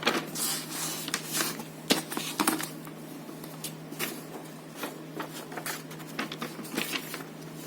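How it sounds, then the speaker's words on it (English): Scissors snipping through a sheet of paper while making a Halloween ghost garland craft, a run of close, crisp cuts and rustles over a steady low hum, with no talking. "Go in with your scale or scissors and cut."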